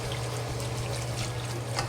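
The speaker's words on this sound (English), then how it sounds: "This is the hot water. We add hot water to it." Hot water poured into a pot of frying chicken pieces for a chicken and potato stew, a steady close liquid splash and trickle over a low simmering hum, with no talk.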